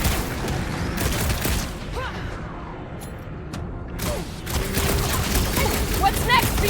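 Rapid bursts of gunfire and booming blasts from a Guardians of the Galaxy video game battle, dense and loud, with voices shouting over the combat.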